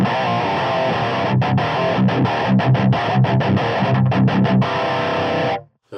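Heavily distorted electric guitar, played through a distortion pedal, plays a chugging riff with choppy palm-muted rhythms, loud and steady, cutting off abruptly at the end.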